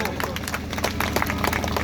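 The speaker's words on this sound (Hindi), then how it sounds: "जोर से ताली बजाओ सब लोग" A crowd at a birthday gathering in an old age home claps steadily, with a dense, continuous patter of hands close by and voices murmuring underneath.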